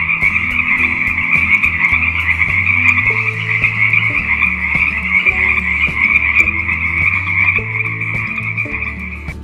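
A toad croaking in a loud, continuous, high trilling call that holds steady for the full stretch, with lower intermittent tones beneath and no voices.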